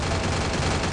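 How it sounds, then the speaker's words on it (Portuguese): Rapid gunfire from the battle royale game Free Fire, a dense continuous burst of shots that fills the whole moment at steady loudness with no talk. "ó o tiro, velho"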